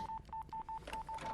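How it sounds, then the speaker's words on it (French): A telephone number dialed on a keypad, a quick run of about eight short, evenly spaced beeps, moderately loud and clear with no talking. "Je dois appeler Facundo."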